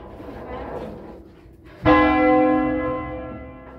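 Manually rung church bells at Bresso, near Milan, during a solemn bell concert: one loud, close strike rings out and hums away slowly, following a softer, muddier stretch of ringing.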